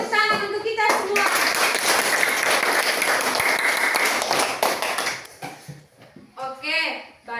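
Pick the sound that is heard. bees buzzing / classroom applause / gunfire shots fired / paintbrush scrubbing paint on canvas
classroom applause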